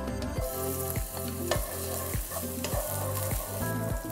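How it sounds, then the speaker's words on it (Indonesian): Shallots and garlic fry in hot oil with a loud, constant sizzle, broken by regular scraping stirs of a utensil against the pan roughly every half second, and no talking. "setelah minyaknya mulai panas, kita mulai memasukkan bumbu, yaitu bawang merah dan bawang putih"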